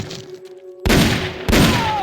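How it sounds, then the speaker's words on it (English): Gunfire in the video game Metal Gear Solid Peace Walker: two sharp, loud bursts of shots cut in abruptly after a quiet stretch, the second following about half a second later, each trailing into a rumbling decay. "I heard gunfire!"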